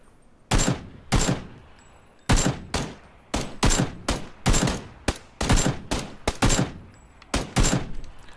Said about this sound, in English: Someone's shooting back, I think. Or it might have just been you guys shooting.